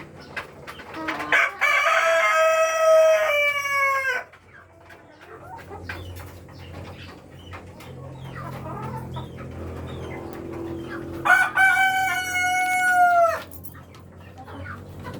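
Dark mahogany laying hens and roosters on a farm: two loud, close rooster crows open and close the stretch, with hens clucking softly and other fowl calling in between.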